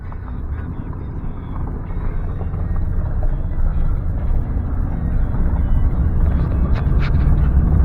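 A TYM 574 tractor runs steadily during a ride along, a loud, close, continuous engine drone with wind buffeting the microphone.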